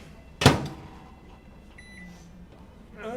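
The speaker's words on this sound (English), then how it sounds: "microwave" A microwave oven in a home kitchen runs with a low, steady hum after a sharp clunk of its door closing, with faint beeps and a soft whir underneath.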